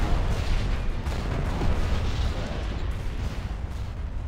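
Missiles and bombs exploding in a space battle game, a continuous rumbling barrage of deep booms and blasts, loud and dense, with no clear speech.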